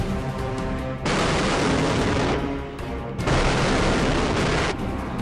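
Dense, roaring bursts of rapid unguided rocket artillery launches during the West 2009 military exercises, two long waves, a sustained rushing barrage with brief lulls between volleys, loud and close.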